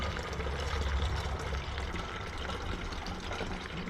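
Homemade yarrow tincture mix poured into a garden pressure sprayer: a close, continuous splashing stream of liquid filling the tank for several seconds, with no talking.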